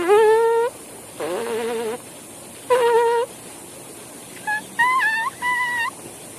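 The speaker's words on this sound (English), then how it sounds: "Just an easy lip buzz." Buzzing of a trumpet player's lips without the horn, an easy, quiet practice buzz: five short separate buzzes with pitch slides, some reaching fairly high, close up with no talking.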